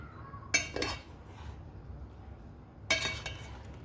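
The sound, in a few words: spoon stirring half-boiled rice in a pot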